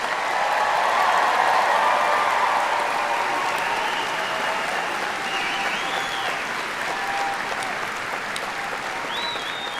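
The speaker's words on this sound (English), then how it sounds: "can I get a round of applause for the SUNY Oswego class of" Sustained applause from a large graduation audience at a SUNY Oswego commencement, steady dense clapping throughout with a faint cheer rising now and then, loud and evenly spread across the crowd.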